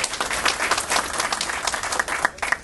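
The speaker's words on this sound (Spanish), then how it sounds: "Un fuerte aplauso para la AMDEL." Audience applause fills a press conference in Trujillo for indoorball organizers AMDEL, a dense, steady burst of many hands clapping at close range throughout.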